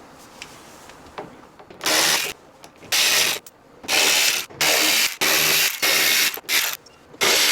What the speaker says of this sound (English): There are 6 7mm bolts that you need to remove for the inner liner.